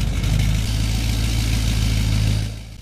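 GMC AT4 pickup with a 6.6-liter Duramax diesel in Farming Simulator 22, a loud, close engine running steadily with a deep throb before easing off at the end.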